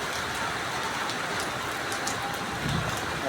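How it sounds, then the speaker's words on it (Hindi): Heavy rain pouring down steadily over rooftops in a residential area, a dense continuous hiss and patter with occasional louder drops, loud and unbroken throughout. "देखो तो तेज़ बारिश आ रही है"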